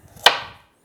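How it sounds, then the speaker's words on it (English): A knife splits carrots on a cutting board for chicken stock, giving one sharp close chop that thuds into the board and rings out briefly, with no voices. "Carrots, we split them."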